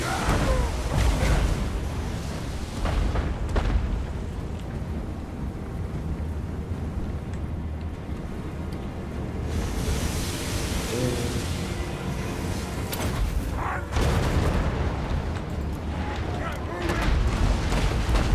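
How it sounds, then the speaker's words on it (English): Dwarf bombs exploding during a Total War: Warhammer multiplayer battle, heavy rumbling booms rolling over dense battle noise, with someone talking throughout. "we'll fire... drop our bombs as he walks overhead."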